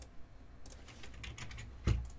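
Fast, irregular clatter of typing on a computer keyboard, fairly faint and steady, with one heavier thump near the end, in a live trading-card and autograph breaks studio.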